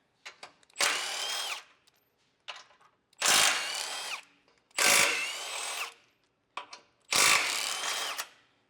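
A power tool whirs in four loud bursts to remove front bolts on a 2024+ Toyota Tacoma, each burst preceded by short ratcheting clicks, with brief pauses in between.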